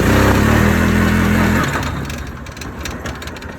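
A 2003 Yamaha Grizzly 660 ATV engine revs hard in reverse with its reverse override deleted, holding a loud steady drone for about a second and a half before the pitch drops and the revs fall away, up close.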